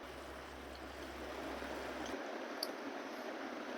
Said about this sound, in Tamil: ஸோ நல்லா இப்போ கொதிச்சிருச்சு.